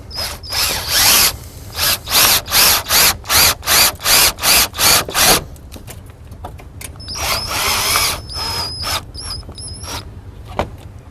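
A power drill runs in short, evenly spaced bursts, a dozen or so in a row, driving screws into a towed vehicle, then a longer whirring stretch with ratcheting clicks, loud and close.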